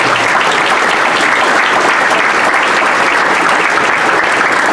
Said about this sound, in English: Please, a round of applause for Kevin Hansen.